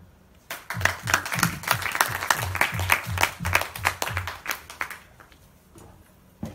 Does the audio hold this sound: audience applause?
yes